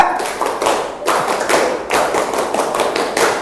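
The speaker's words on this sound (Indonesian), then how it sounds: "Tepuk pramuka." A classroom group performs the Indonesian scout clap, a rhythmic pattern of sharp, overlapping hand claps repeated in quick bursts, close and loud with no talking.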